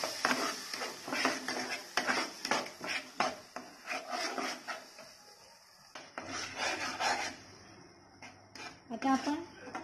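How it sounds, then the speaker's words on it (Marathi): Onion and tomato paste sautéed and stirred in a pan while cooking palak paneer, with scraping and rubbing of a utensil against the pan, close and fairly steady, under a voice talking throughout. "एक कांद्याची आणि टोमॅटोची पेस्ट घालून परतवून घेऊया."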